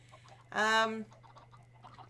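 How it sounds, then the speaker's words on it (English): A single loud clucking squawk from a chicken in the Minecraft video game bursts out for about half a second over a faint steady hum, with quieter murmuring game sounds around it. "So yes, Jevin, hope you like having your base flooded with chickens."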